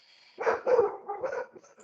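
Several dogs barking in a few short bursts at moderate distance, loud and clear, with no talk over them.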